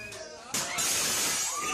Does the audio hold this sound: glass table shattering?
yes